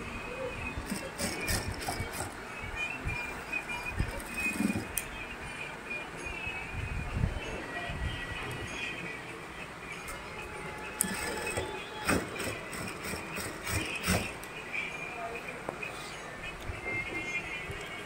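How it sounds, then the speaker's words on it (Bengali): A sewing machine stitching a pair of boys' full pants, running as a continuous mechanical rattle and whir with faint background noise throughout. "তো দেখতে পাচ্ছেন খুব সুন্দর করে কিন্তু এখানে সেলাই করা হচ্ছে"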